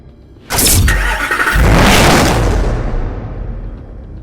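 Mercedes-Benz SLS AMG engine starting in the video game Need for Speed Hot Pursuit Remastered: a sharp starter crank bursts into a loud, deep roar, revs up once more, then settles into a rumbling idle.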